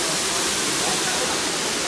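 Tatlıca waterfall at Erfelek pours down steadily, a loud, continuous broadband rush of falling water filling the scene without a break.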